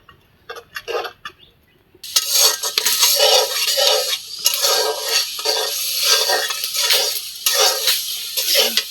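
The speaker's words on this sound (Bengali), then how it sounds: "এখন মশলাটা ভালো করে কষে নেই" Spices for khichuri, cooked with home-grown mung dal and beef fat, frying and being stirred in a pot: steady loud sizzle with scraping and clinking after a quieter start with a few faint knocks.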